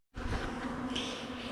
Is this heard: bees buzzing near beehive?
yes